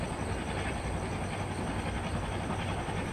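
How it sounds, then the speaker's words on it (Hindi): A train passing in the Train Simulator game, a loud continuous rumbling roar of rolling rail cars with a faint steady high whine, unbroken and close throughout. "अब हमें बेसिकली इस ट्रेन के ओवरटेकिंग का वेट करना है"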